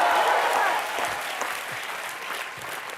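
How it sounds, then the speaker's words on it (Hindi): Studio audience on a comedy show breaking into applause, a dense patter of clapping that starts strong and tapers slightly over a few seconds. "तालियां।"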